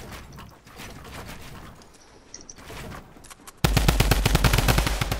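Rapid automatic gunfire from a drum gun in the Fortnite video game, a dense loud burst of shots that starts abruptly partway through after quieter in-game gunfire and ambience.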